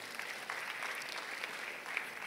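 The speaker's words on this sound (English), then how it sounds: "Let's clap for them as they do so" A church congregation at a Sunday service applauding as children leave for kids' church, a short burst of steady, moderately distant clapping from many hands.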